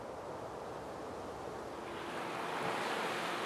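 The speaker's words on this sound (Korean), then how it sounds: "여전히 힘찬 물소리와 회오리 치는 바다는" Strong tidal current and waves surge through Uldolmok, the narrow strait between Jindo and Haenam known for the fastest sea currents in Korea. The rushing water makes a steady, dense roar that swells slightly toward the end, with no voices.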